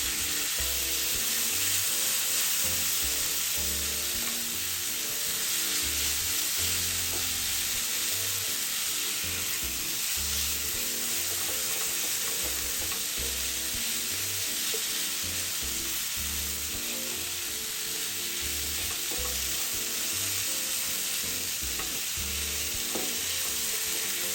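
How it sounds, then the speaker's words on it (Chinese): Marinated chicken stir-fried with onions for a curry chicken mooncake filling sizzles steadily and loudly throughout, with a constant hiss of frying and frequent soft scrapes and knocks of stirring in the pan. "再将腌制后的鸡肉倒入，一起拌炒均匀。"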